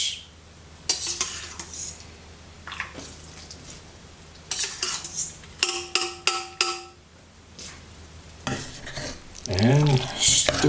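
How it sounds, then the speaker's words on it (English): A spoon stirs cooked macaroni into merguez sauce in a metal pot. Scraping and clinking strokes come close up and rhythmic, with a wet squelch of pasta and sauce and brief ringing taps against the pan. "And stir well."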